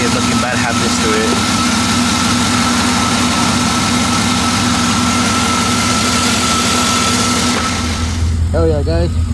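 A single cab pickup truck's engine idles steadily and loudly throughout, a constant low drone with a faint whine, while a person speaks briefly near the end.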